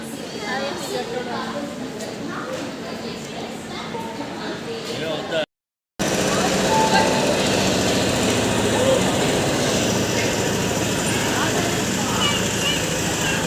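Steady rumble and hum of a train at a station, loud and continuous on both sides of a brief cut, with people talking over it.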